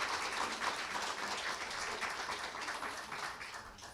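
Modest applause rises and slowly fades at a Jongno-gu district office staff meeting during an award presentation, a moderate, even patter of hands heard from a distance in a hall.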